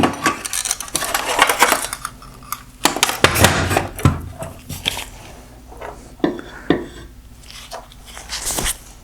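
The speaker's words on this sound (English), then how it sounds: "With all the screws removed, I can lift off this bracket." Metal clinks and plastic knocks as a bracket comes off a 2018-2020 Range Rover Velar OEM LED headlight assembly, a series of short close taps and rattles with brief pauses between them, no talking.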